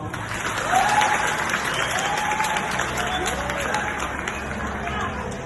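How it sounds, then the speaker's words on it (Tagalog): A crowd applauding steadily throughout, dense clapping at a fairly even level with faint murmuring mixed in. "hiling ko po sana'y masigabong palakpak"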